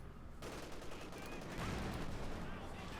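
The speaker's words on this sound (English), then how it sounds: "Sniper fire there" Gunfire in a Company of Heroes 2 battle, Wehrmacht Grenadiers taking sniper fire, rendered as dense overlapping shots and bursts under steady battle noise, with a voice talking over it.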